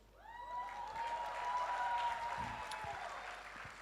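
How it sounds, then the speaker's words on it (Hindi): An audience applauds at an evening event in India, the clapping building up after a quiet start, holding loud and steady, then easing slightly, with some voices mixed in. "तालियां बजाइए प्लीज।"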